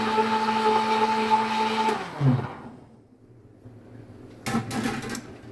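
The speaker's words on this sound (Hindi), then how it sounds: "अभी इसमें हम थोड़ी सी आइस और डालेंगे और इसको फिर ग्राइंड करेंगे" Blender grinds ice and mint for a mint margarita, a loud steady whir for about two seconds that stops abruptly, followed by quiet clatter and a short burst of handling noise.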